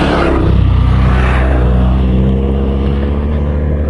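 Motorcycles pass close by with a loud, droning engine roar that swells and then fades into a lower rumble as they move away.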